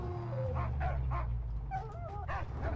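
A dog in the post-apocalyptic video game Mad Max gives several short yips and whimpering barks over a steady low engine rumble, fairly close, with no talking.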